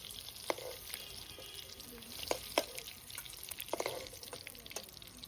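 Whole eggs fry in hot oil in a pan, a faint soft sizzle broken by scattered light clinks and taps of a utensil as the browned eggs are lifted out.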